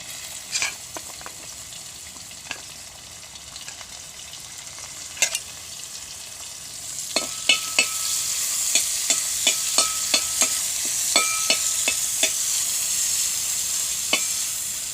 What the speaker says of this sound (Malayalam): ഒരു ചട്ടിയിൽ കുറച്ച് എണ്ണ ഒഴിച്ച് അത് ചൂടാകുമ്പോൾ അതിൽ നമുക്ക് ഉണക്കമീനിട്ട് അതൊന്ന് വറുത്ത് മാറ്റി വയ്ക്കാം